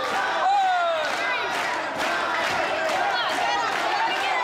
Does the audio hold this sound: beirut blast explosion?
no